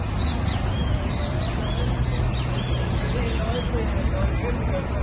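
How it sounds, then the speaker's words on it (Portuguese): A small bird sings outdoors during a trip in Argentina, repeated thin chirps and short whistled phrases over a constant wash of crowd and ambient noise. "E esse passarinho cantando."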